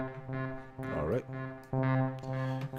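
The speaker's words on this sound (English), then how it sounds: "Got some reverb going on here." Synth patch built in Reaktor Blocks, with reverb applied, playing sustained harmonic tones with pitch bends and swells, tails ringing out between notes, alone.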